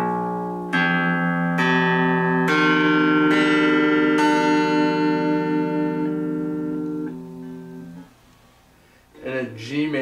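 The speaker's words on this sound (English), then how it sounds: "From the lowest string to the highest," Electric guitar with out-of-tune strings, fresh out of the box and played through an amp, is plucked one string at a time from lowest to highest, six ringing notes that stack and decay, followed by a brief voice.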